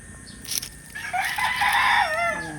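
Chickens kept as pets sound off up close: a short cluck, then a loud, drawn-out rooster crow rising and trailing off near the end.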